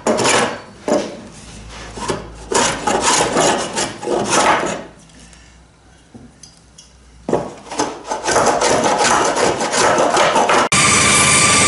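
A hand plane shapes a wooden part for an Acorn dinghy build, giving repeated close, scraping strokes of rough rubbing and rasping against wood with short pauses between passes, and a brief quiet stretch midway.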